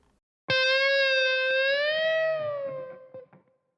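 A single sustained electric guitar note with distortion, bent upward gradually from a semitone to three semitones then released, ringing alone for about three seconds before fading out.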